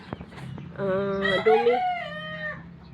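A rooster crows once close by, a stretched, wavering call, with a few soft clucks and knocks before it.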